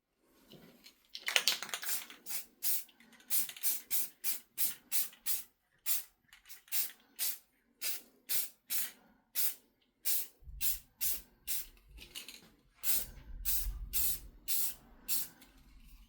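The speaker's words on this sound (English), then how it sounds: "I'm just going to go ahead and shoot them with some black spray paint real good on the bolts and the brackets here" Black spray paint hisses from an aerosol can onto bolts and brackets in the engine bay of a 1989 Chevrolet Cavalier Z24, coming as a long series of short, even bursts close by, with a low rumble entering near the end.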